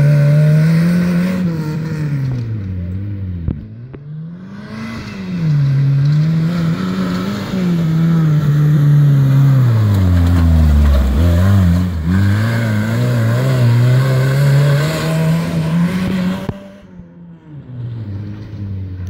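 A tuned 1.6 16V Swift engine swapped into a Suzuki Samurai SJ (413) revs hard and loud, rising and falling through several sweeping throttle blips over about twenty seconds with no talking.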